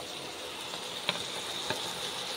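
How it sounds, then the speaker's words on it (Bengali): Rohu fish pieces fry in a kadai, a steady, soft sizzle with two brief crackling pops, no voices. "এরপর মাছগুলো একের পর এক কড়াইয়ের মধ্যে আমি ছেড়ে দিচ্ছি।"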